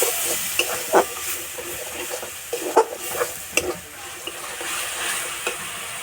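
Water used to rinse ground spices (cumin, chili, turmeric) is poured into a pan of frying spices for a jackfruit curry, producing a steady loud sizzle and hiss with occasional stirring clinks and pops.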